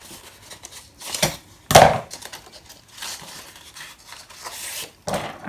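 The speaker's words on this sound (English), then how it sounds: "Well, I'm using scissors then." Scissors trim a paper cover tab in a few quiet, separate snips, one crisper cut standing out among soft rustling of the paper, close to the microphone.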